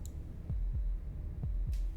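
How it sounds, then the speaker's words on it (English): Slow heartbeat from the video game Slay the Princess, two paired thumps repeating over a low steady hum, deep and muffled with no talk. "That was the sound of a heartbeat,"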